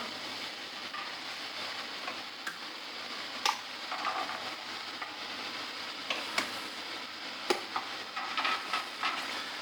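Water at a rolling boil in a canning pot for a water bath, a soft steady bubbling hiss with scattered small pops and clinks, fairly quiet and continuous.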